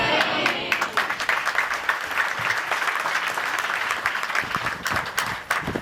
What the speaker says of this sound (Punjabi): ਉਹਦੇ ਲਈ ਆਪਾਂ ਤਾੜੀ ਮਾਰੀ ਹੈ।